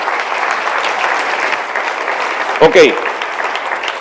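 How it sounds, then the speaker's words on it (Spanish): A church congregation at a pastors' study gathering applauds steadily, a dense continuous clapping that fills the room, with a brief voice cutting in near the end. "Denle un aplauso bien fuerte al Rey."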